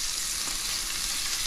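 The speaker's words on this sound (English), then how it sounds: "When you put your fish in a pan, always move it" A pompano fish fillet sizzles skin side down in a hot pan, a steady, loud, close hiss of frying oil that holds without a break.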